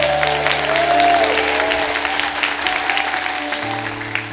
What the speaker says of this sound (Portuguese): E uma salva de palmas para Jesus